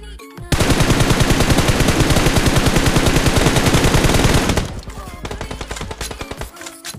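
Rapid automatic gunfire in an online shooter game rattles loud and close in one long unbroken burst, then gives way to quieter, more scattered shots.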